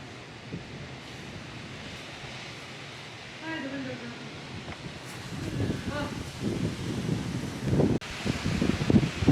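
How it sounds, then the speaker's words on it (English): Wind blows steadily on Cheaha Mountain in eastern Alabama with rushing gusts that strengthen toward the end, and a voice speaks briefly beneath it. "It's very windy up here."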